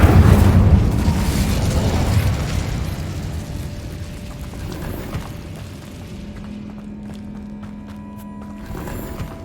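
A fire spell in the Hogwarts Legacy video game goes off as a loud, roaring burst of flame and then fades to a low rumble. Softer game effects and a thin sustained hum follow, and there is a small flare again at the end.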